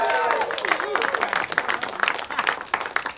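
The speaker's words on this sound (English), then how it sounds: "Give yourselves a round of applause" A studio audience claps for a short stretch, a dense steady patter of applause with a voice sounding over it at the start.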